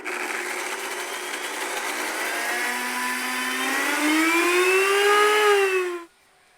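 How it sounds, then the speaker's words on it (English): A blender blends a raw food sauce, whirring loudly and steadily, its motor pitch climbing as it runs, then it cuts off abruptly near the end. "we just blended the sauce up"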